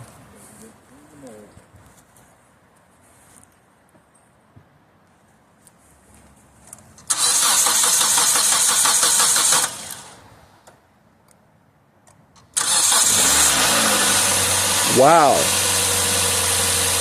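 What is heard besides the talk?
car that had been sitting, engine starting and idling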